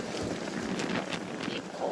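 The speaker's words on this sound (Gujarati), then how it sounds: "મસ્ત પવન ચડ્યો છે, ઠંડો ઠંડો" Cool wind blowing over a vlogger's microphone while traveling outdoors, making a loud, constant rumbling roar with gusty buffeting that fills the whole stretch, with no talking.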